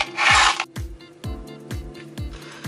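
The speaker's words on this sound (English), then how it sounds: "So let's screw in the last 6 screws." Screws being driven into a power supply case by hand, making a rapid series of sharp ratcheting clicks: about five evenly spaced close ticks that follow a brief rasping scrape, with no speech.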